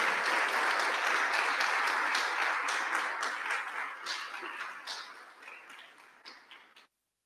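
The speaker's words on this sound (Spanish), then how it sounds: "aplauso." Audience applause at a panel discussion on neoliberalism and the crisis of social reproduction, a dense, even burst of clapping that gradually thins and fades before cutting off.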